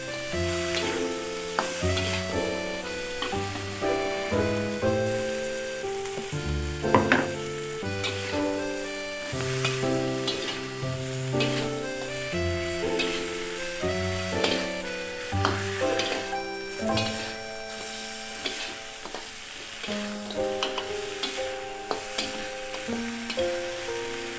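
Salted jambal fish bones and eggplant are stir-fried with gendot chili, a faint sizzle and stirring scrape running under prominent background music throughout.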